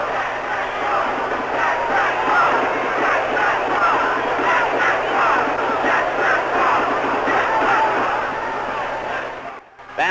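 A large football crowd roars at Notre Dame stadium, a dense, sustained wall of cheering and shouting that swells and stays loud for about ten seconds before briefly dipping at the end.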